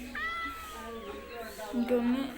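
A pet cat meows once, a drawn-out, rising call close to the microphone, with a shorter second meow near the end while someone talks nearby.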